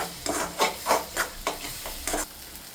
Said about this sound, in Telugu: కొంచెం పసుపు వేసుకొని కొంచెం అల్లం వెల్లిపాయ పేస్టు, ఇది బాగా కలుపుకోవాలన్నమాట